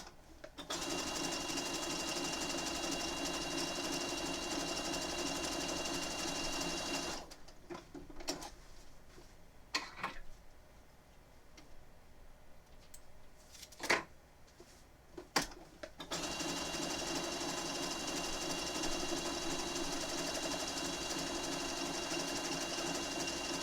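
Sewing machine stitching down a Pokémon appliqué on a quilt, running in steady loud stretches with a quiet pause in the middle broken by a few clicks and thumps.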